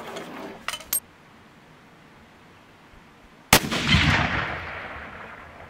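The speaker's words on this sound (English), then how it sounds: "Shoot a couple more, see if we can get a group to measure here." A rifle with a newly changed barrel firing at a paper target outdoors, one sharp loud report with a rolling echo that fades over a couple of seconds, preceded by faint clicks of handling.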